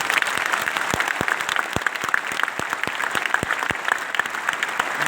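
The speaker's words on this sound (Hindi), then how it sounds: "मेरा ख्याल से जोरदार तालियों के साथ" Audience applause at a business leadership event, a dense wash of clapping with several sharp individual claps standing out, steady and moderately loud throughout.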